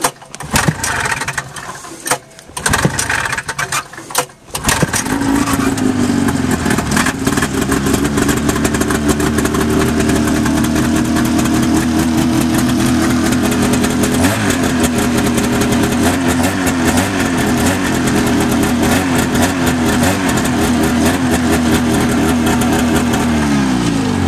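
A Puma snowmobile engine at Phil's Shack cranks a few times, fires and keeps running loud and close, revving unevenly with rising and falling pitch, with no talking over it.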